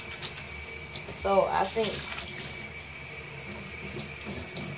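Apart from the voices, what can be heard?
water running while rinsing hair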